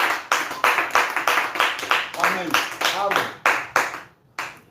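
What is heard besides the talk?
congregation applauding the late Reverend Baouti Kassongo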